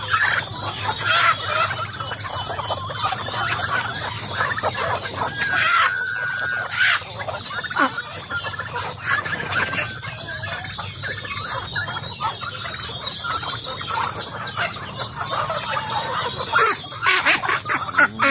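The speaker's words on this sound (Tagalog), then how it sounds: "Iyakan yung mga sisiw. Nag-iyakan na." Hungry chicks peep loudly in a dense, continuous chorus among clucking farm fowl, close and steady throughout with no talk.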